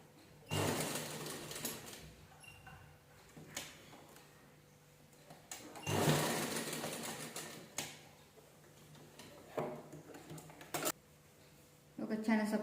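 A sewing machine stitching leftover lace, giving bursts of rapid mechanical clatter separated by pauses, with someone talking quietly in between.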